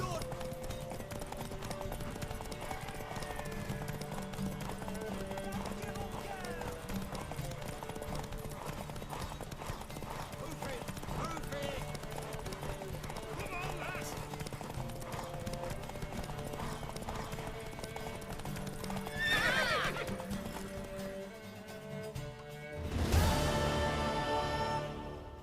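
A horse galloping in the fantasy role-playing game The Witcher 3: Wild Hunt, steady clip-clop of hooves running continuously under game music and voices, with a louder surge near the end.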